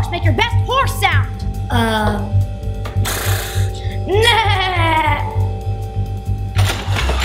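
A person imitates a horse with several whinnying, bleating vocal bursts, loud and close, separated by short pauses.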